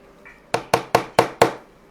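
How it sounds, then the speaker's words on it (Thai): Light knocking or tapping during a makeup routine while applying foundation: five crisp, evenly spaced taps in quick succession, close and clear with no talk over them. "มีการเคาะเบา"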